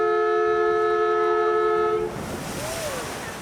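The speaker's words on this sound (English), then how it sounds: "Here we go with a big splash." A Boston Duck Tour amphibious boat enters the water: a steady, blaring horn-like tone for two seconds, then a broad, rushing wash of splashing water that carries on to the end.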